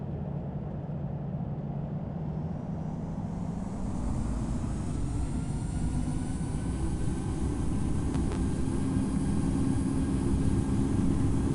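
An airliner in a flight simulator takes off from Singapore Changi runway 20 right, its engine roar swelling steadily into a continuous broadband rush with no voices.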